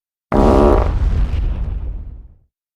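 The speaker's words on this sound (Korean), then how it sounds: "무서운 대포방귀 한 방에 모두 깜짝 놀라 귀를 막다 발라당 벌러덩." A single big, booming cartoon fart blast like a cannon shot, from a bear in a children's bedtime story, starting abruptly and rumbling out over about two seconds before cutting to silence.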